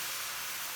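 Water poured into a pan of frying cabbage sets off a steady, broad hiss that stays even and close for under a second, with no voices.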